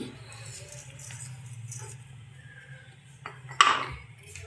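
A spatula stirs fried rice seasoned with salt and sugar in a pan. Faint, soft scraping strokes build to one sharp metallic clank near the end, with no talk.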